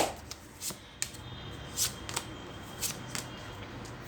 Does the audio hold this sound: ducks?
no